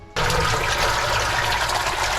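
Water gushes into a DIY koi pond filter through its shower drains, starting suddenly and then rushing and splashing steadily up close.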